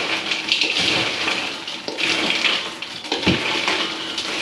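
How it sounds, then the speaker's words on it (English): Turkey stuffing with craisins and nuts is mixed quickly in a bowl, a loud, continuous wet stirring and sloshing with a few sharper scrapes, with no talk. "I'm just going to give this a quick mix."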